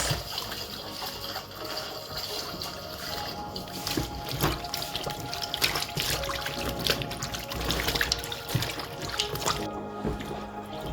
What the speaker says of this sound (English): I'm taking time to show how I wash my vegetables